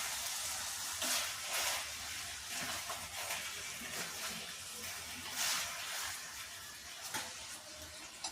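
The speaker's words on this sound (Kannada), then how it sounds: "ಇದು ಸ್ವಲ್ಪ ಎಣ್ಣೆಯಲ್ಲಿ ಫ್ರೈ ಆಗಬೇಕು" Chicken fries in oil with onions and chilies, giving a steady close sizzle with crackling bursts and faint stirring scrapes, no talking.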